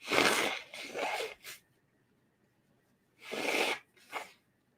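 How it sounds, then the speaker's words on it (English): Two sneezes from a person, each a sharp, loud burst with a short breathy tail, close to the microphone and separated by a few seconds of near silence. "That sneeze just brought it right down."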